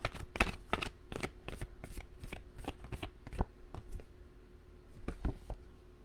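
Tarot cards shuffled during a zodiac reading, a run of crisp riffling slaps and flutters in quick irregular bursts, close and fairly quiet, with no voices.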